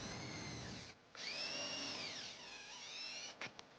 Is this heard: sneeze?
no